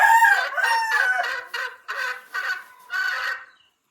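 Recorded chicken calls are played back near a rooster, a loud, close series of about six harmonic clucking and crowing bursts in quick succession against a silent background.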